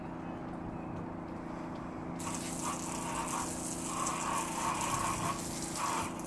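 A strong jet of water from a water-fed cleaning trolley at full blast bursts on after a couple of seconds and keeps gushing steadily over a constant low mechanical hum.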